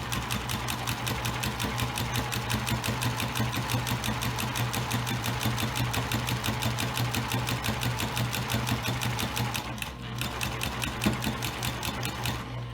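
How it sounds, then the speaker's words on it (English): A sewing machine runs continuously along the edge of a baby blanket, a close, steady rapid needle chatter with a low motor hum and only a brief slowdown near the end. "I'm sewing all the way to the end."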